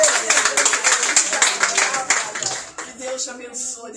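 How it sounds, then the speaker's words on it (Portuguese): A church congregation at a Portuguese-language thanksgiving service claps hands together, dense and lively at first and then thinning out, with voices and worship sounds mixed in. "Você pode aplaudir ao Senhor."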